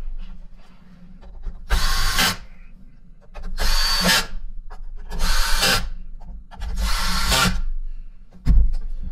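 A power screwdriver whirs in four sustained bursts of about a second each as it backs the big screws out of a Miele SEB 236 vacuum powerbrush, with a sharp knock near the end and no speech.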